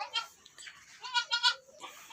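Goats on a small farm, a large black doe and a smaller one with newborn kids, give several soft, quavering bleats close by in quick succession, with faint background sounds.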